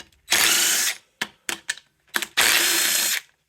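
An impact driver backs out tight 8 mm bolts on a Chinese 4-speed engine for a Honda Trail 70, with two long loud rattling bursts at the ends and several short hammering blips between, close up.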